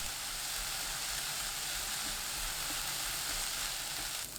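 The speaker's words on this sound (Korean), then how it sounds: "예열한 팬에 식용유 반큰술, 양파 넣고 센 불로 2분 볶아주세요." Onion stir-frying over high heat in half a spoonful of cooking oil in a preheated pan gives a steady, dense sizzle throughout, close and even, with no voices.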